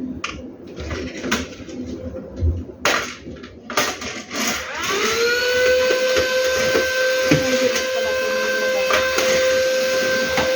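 A household vacuum cleaner starts up during quick home cleaning, rising into a steady, loud motor whine with a high tonal hum that holds continuously after a few bumps and clatters.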